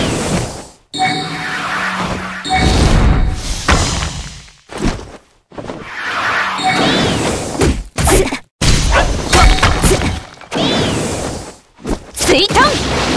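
Rasenshuriken attack impacts from the game Naruto Online land as loud, layered whooshes, thuds and ringing bursts in a dense battle mix with repeated sharp cutoffs, while voices call out over the action.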